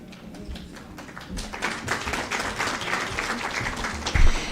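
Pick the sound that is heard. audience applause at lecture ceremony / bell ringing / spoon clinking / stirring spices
audience applause at lecture ceremony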